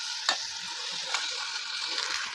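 Chicken pieces fry in a masala of chili powder and coriander powder, a steady close hiss of sizzling oil with two distinct scraping strokes from stirring.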